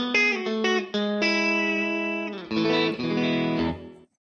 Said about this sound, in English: if I hit this switch, it forces the bridge pickup on, and you get this.